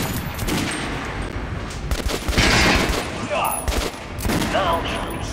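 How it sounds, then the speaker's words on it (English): Gunshots from a regular gun in the shooter Metro: Last Light Redux fire repeatedly at a target, dense and fairly loud, mixed with a steady noisy game background and a voice speaking over them. "Try shooting for the center of the regular gun."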